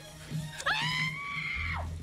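Several people scream in a TV drama scene, a sharp shriek rising into a sustained high wail over a low background hum, loud and close, with no talk over it.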